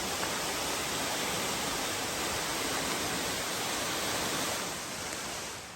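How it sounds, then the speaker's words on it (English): Rocky Mouth Falls in Utah's Wasatch mountains, a steady broadband rush of falling water heard from some distance, constant and unbroken with no voices. "And there's the waterfall."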